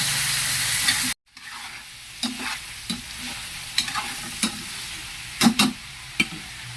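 Palm heart (ubod) sautés in a pan with chili, a steady sizzle broken by an abrupt cut, then repeated sharp scrapes and clacks of stirring at irregular intervals, close and clear.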